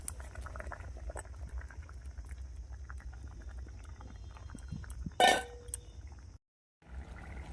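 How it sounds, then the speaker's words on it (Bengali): Snakehead fish kalia gravy bubbles in a pan with a soft, steady simmering burble. A sharp clink from a utensil sounds partway through, followed by a brief silence before the bubbling returns. "দেখুন ঝোলে কি সুন্দর জাল উঠে গেছে"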